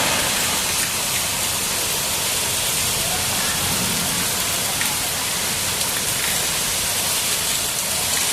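Heavy hailstorm rain pours down in Hyderabad, a dense, loud, steady hiss of drops striking surfaces close by, with scattered sharper impacts throughout.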